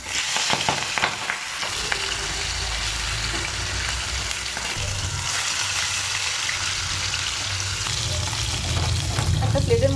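Fish fry in a pan of hot oil, giving a steady, loud sizzle and crackle for the whole stretch, with a few light clatters near the start.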